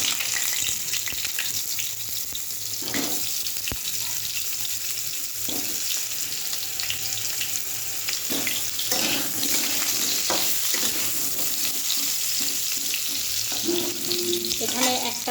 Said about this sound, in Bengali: এই তেলে আলুটা একটু ভেজে তুলে রাখবো